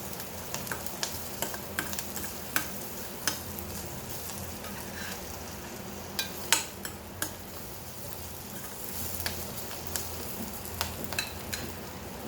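Spiced brinjal pieces for Hyderabadi masala vangi sauté in a pan with a soft, continuous sizzle, while light clicks and scrapes of a spatula tap out an irregular rhythm close by.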